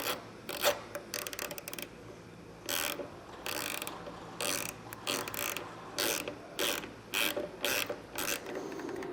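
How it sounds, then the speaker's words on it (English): A size 4 Allen key tightens a bolt on a tailgate plate in a series of close ratcheting, rasping turns, with short bursts separated by pauses. "In order to tighten down, you're going to need to use a 4 or a size 4 Allen key."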